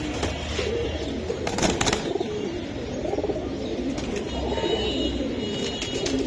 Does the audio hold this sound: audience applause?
no